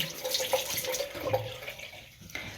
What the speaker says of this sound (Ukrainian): знімаю щіточку і мию саму насадку